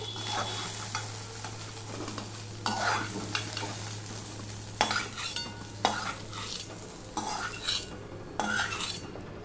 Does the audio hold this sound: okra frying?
yes